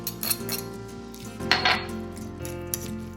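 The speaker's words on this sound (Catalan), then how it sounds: "I anem remenant, com que l'aguacate estava molt al punt, no costa gens." A utensil stirs guacamole made with ripe avocado in a bowl, giving soft scraping and light clinks against the dish over a steady background hum, close and fairly quiet.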